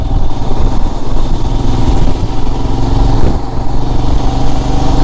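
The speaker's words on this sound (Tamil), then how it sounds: "கேரளாவில் ஃபஸ்ட் டைம் பைக் ரைடிங்க." A motorcycle ridden along a road through rubber-tree country in Kerala, its engine droning steadily and close for the whole stretch with small shifts in throttle, and no talking over it.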